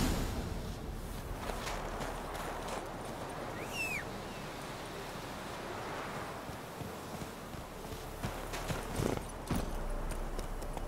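Horse hooves clopping at a walk in The Witcher 3, a steady rhythmic series of hoofbeats over soft wind-like ambience, with a brief bird call partway through and no voices.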